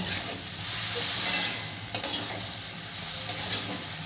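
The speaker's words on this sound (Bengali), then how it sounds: "সমস্ত মশলা দিয়ে সবজিটাকে আমি ভালো করে কষিয়ে নেব।" Vegetables frying with spices in a pan for navratan korma, a continuous sizzle broken by several quick scraping stirs and light clinks of a spoon against the metal.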